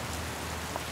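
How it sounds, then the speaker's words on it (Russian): Steady rain falling, a soft, even hiss of drops on surfaces, faint and constant with no voices. "Какой дождь."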